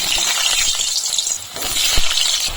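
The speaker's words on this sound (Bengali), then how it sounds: "এখন আলুগুলোকে ভেজে নেব" Potatoes frying in mustard oil in a pan fill the air with a steady, close, bright sizzle, with a few soft knocks and stirring clinks mixed in.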